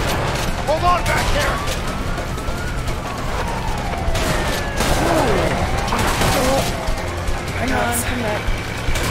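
Gunfire in the video game A Way Out rings out amid sirens and car noise in a chaotic chase, with shots mixed into dense game sound while players talk over it.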